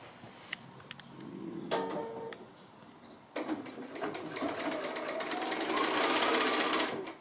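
A sewing machine joins mini pear sampler quilt block rows, stitching in bursts of close rapid whirring that stop and restart, loudest and longest near the end, with no talking.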